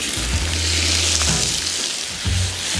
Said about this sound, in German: Und das Fleisch wird jetzt von allen Seiten kräftig angebraten.